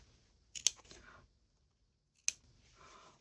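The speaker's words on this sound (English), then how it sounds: "you need really sharp scissors" Sharp scissors snipping through fabric scraps while sewing a Christmas ornament, two quiet, crisp cuts separated by a pause, close to the listener in a quiet room.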